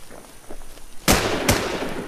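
Two sharp gunshots from the online survival game Infestation, loud close cracks about half a second apart following a quiet stretch, each leaving a brief ringing tail.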